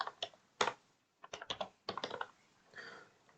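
Someone types a short message on a computer keyboard for a chat app built with React, Firebase, Node JS and Socket.io: quick bursts of close, crisp keystrokes split by short pauses, then a softer final flurry, with no voice.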